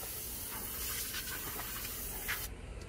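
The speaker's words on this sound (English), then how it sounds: "always spray your new rotors" A steady aerosol hiss of brake cleaner sprayed onto new brake rotors of a 2013 Audi A4, broad and airy, running continuously for a few seconds before cutting off.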